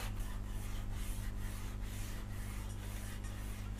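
File and scraper working the wooden body of a handmade Les Paul-style guitar, giving a steady rhythmic rasping of strokes about every half second, close and continuous over a low background hum.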